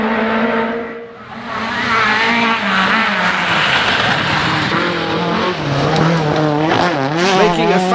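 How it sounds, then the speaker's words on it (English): A historic Toyota Corolla rally car charges through a forest stage, its engine loud and close, revving hard and rising and falling in pitch through gear changes, alone without talk. "Making a fabulous noise in the forests and wowing the fans is the stunning Toyota Corolla of Ben Mellors and Alex Lee."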